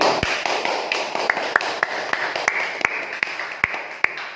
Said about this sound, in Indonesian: Kasih tepuk tangan sekali lagi.